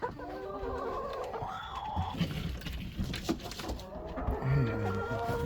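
Hens and a rooster in a backyard coop on a frigid winter day, with continuous overlapping clucks and low chatter at close range, no talk.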